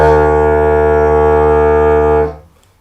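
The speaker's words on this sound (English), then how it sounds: "If I play a loud drone, it sounds like this." A loud, buzzing didgeridoo drone sustained evenly, then tapering off quickly into quiet.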